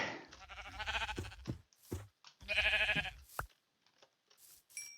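Repeated video game sheep bleats in Minecraft, wavering and nasal, in short bursts separated by gaps, with some clicks and thumps between them.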